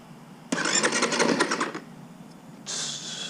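A 2022 Kawasaki KX250F dirt bike being cranked, with a loud burst of engine noise that cuts off, then a second attempt starting after a short pause, close by with no talking.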